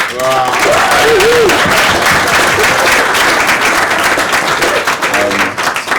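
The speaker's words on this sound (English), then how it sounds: "So massive round of applause" A room full of people applauds loudly and continuously, with voices calling out and cheering over the clapping.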